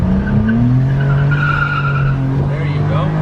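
A 1992 Suzuki Carry 4WD kei pickup truck revs hard under acceleration, its engine note climbing steadily. There is a faint high squeal and constant road and wind roar, all close and loud throughout.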